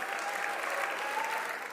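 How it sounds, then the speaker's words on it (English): Audience clapping at an awards ceremony, a dense, steady burst of crowd applause filling the short stretch without letting up. "please be clapping for them"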